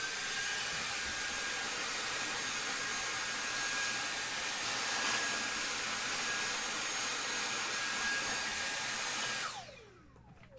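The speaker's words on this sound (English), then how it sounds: "I have to vacuum somewhere." A vacuum cleaner roars steadily and close at hand for about ten seconds while dust is cleared from an Xbox 360 Slim being modded, then winds down with a falling whine.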